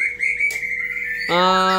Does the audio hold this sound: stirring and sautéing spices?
no